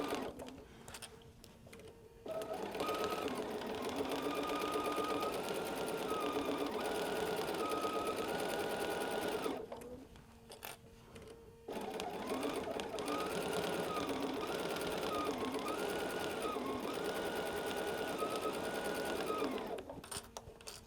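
Sewing machine stitching a flannel rag quilt with half-square triangles, running in two long steady bursts of fast, even whirring with a brief pause between them for pivoting at a corner.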